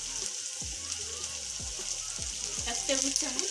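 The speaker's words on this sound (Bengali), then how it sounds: "পেঁয়াজটা একটু ভাজা ভাজা হবে, হালকা।" Chopped onion and ginger frying in oil in a pan, with a steady soft sizzle broken by several low thumps of stirring and a brief louder crackle toward the end.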